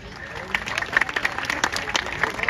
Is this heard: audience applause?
yes